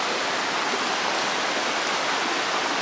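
River water rushes at a trail crossing on the Appalachian Trail as a close, dense, continuous roar with no pauses.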